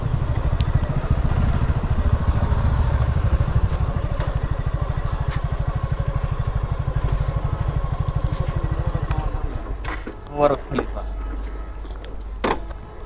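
A motorbike engine idles with a steady low throbbing pulse for most of the stretch, then revs briefly and settles as the bike rides onto a plot of land, with a few clunks near the end.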